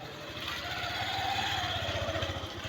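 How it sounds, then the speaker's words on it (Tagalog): A motorcycle engine runs steadily nearby at the site of a house fire, a low, even throbbing rumble that continues throughout the clip. "May motor pa."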